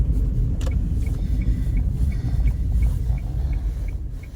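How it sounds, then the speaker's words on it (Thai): Car driving on the road, heard from inside the cabin on a commute to work: a steady low engine and road rumble, close and loud, with a faint regular ticking like a turn signal and no talk. "อีกหนึ่งวันนะคะที่ต้องขับรถไปทำงานเนาะ"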